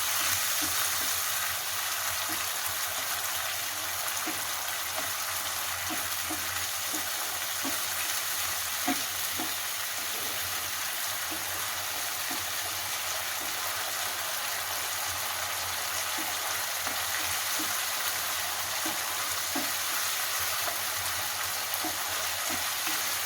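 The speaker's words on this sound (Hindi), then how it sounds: "फ्लेम हाई में ही रखिए, 1-2 मिनट चलाते रहिए।" Food is stirred in a pan over a high flame, with a steady, close frying hiss and regular scraping and clacking strokes of a spoon across the pan.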